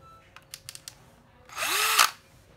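A used cordless drill clicks several times, then its motor spins up with a rising whine, runs briefly and winds down, loud and close, with no talk.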